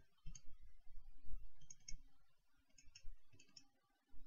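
Faint mouse clicks made while working in nanopore signal analysis software, several short clicks spaced irregularly over quiet room noise.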